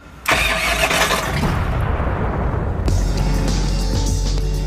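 A homemade steampunk hot rod's engine starts up with a sudden loud burst, then keeps running as a rough, close, steady roar that changes tone partway through. No one speaks.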